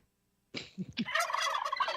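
A turkey gobbles in a quick rattling burst that starts abruptly after a moment of silence, loud and close, with a few short lower clucks before the trilling call.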